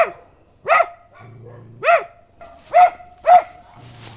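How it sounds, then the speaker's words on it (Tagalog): An Aeta-owned dog barks four times in sharp separate bursts, close and loud, with brief quiet gaps and a soft low rumble between barks. "Aso ng Aita ito."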